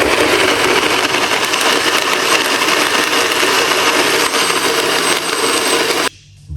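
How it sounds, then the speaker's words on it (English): A blender whirs loudly and steadily for about six seconds, then cuts off abruptly, leaving near silence. "So let's put this into the blender."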